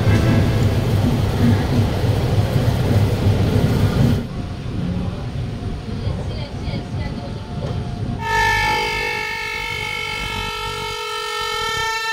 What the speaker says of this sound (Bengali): ধৌলি এক্সপ্রেস তার 20টা এলএইচবি প্যাসেঞ্জার কোচ নিয়ে শালিমার স্টেশন থেকে পুরীর উদ্দেশ্যে রওনা দিয়েছে